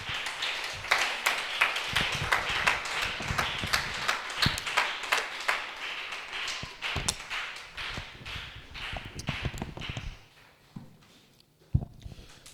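A church congregation at an evening service claps in praise, with brisk, uneven hand claps building for about ten seconds before dying away to a few last isolated claps.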